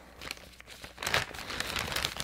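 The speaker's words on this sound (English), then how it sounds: "Let's just cut it open." A plastic package is cut open, producing close, crinkling and tearing rustles that grow louder and busier over about two seconds.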